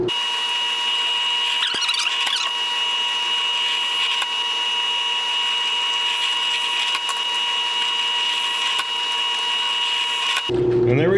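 A handheld power drill whines at a steady high pitch while boring dowel holes freehand into wooden lounge chair parts, running continuously before an abrupt change in tone at the end.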